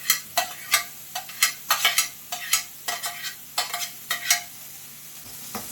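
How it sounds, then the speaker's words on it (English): Onions frying in two tablespoons of hot sunflower oil in a pan, a close sizzling hiss broken by a quick series of sharp scraping stirs from a spatula. "Fry the onions about 4 to 5 minutes or until they soften"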